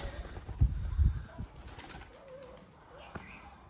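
Pigeons cooing close by outdoors, with a few thumping wing flaps early on, soft throaty coos through the middle and a brief flutter near the end, with faint background voices.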